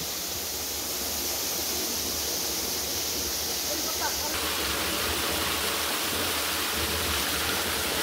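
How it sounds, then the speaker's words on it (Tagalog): River water flows steadily at a cold spring swimming spot, a constant, fairly loud broadband rush with no pauses and no clear voices. "Ang maririnig mo lang yung agos ng tubig,"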